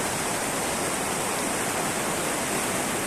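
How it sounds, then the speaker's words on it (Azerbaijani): An overflowing river in Quba rushes loudly and continuously, a steady broad roar of turbulent water heard up close with no other sounds. "Çaylarımız isə aşıb daşır."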